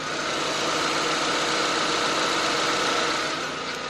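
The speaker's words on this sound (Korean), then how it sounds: "엔진 소음 먼저 들려드리면은" A 1.6-litre GDI gasoline car engine idles steadily up close, a continuous even hum with a faint rhythmic tick, with no voices over it.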